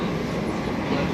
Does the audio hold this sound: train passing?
yes